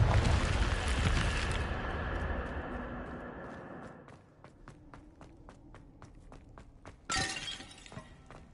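In the video game Hogwarts Legacy, a Confringo spell blast roars as a loud, dense explosive burst that fades over a few seconds. Crisp footstep-like clicks follow, then a second sharp crashing burst near the end.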